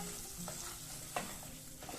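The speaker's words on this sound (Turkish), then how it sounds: "İrmiklerimi kavuruyorum." Semolina is stirred and roasted in a hot pan with a soft, steady sizzle and occasional scraping taps of a utensil, quiet and close.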